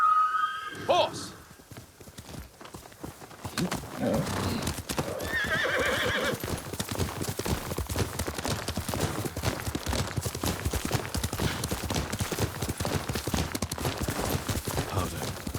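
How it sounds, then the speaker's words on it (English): A horse in the video game Ghost of Tsushima whinnies near the start, then gallops with steady, rapid clip-clop hoofbeats that continue loud and close through the rest, with a brief voice early on. "Yuriko's horse."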